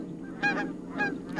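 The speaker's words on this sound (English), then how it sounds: "A pair of Canada geese flies off, honking boisterously and disturbing the stillness of the marsh." Two Canada geese honking boisterously as they take off from a still marsh, a few loud nasal calls in quick pairs, fairly close, with no other sound.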